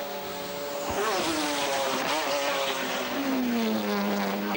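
Le Mans 24 Hours race cars of 1997 scream down the Mulsanne straight, loud sustained engine notes with pitch sweeps as cars pass close by, several engines overlapping with no talk.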